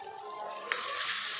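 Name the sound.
masala with tomato paste being stirred and fried in a pan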